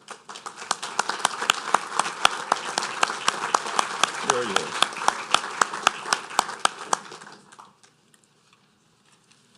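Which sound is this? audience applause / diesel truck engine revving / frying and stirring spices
audience applause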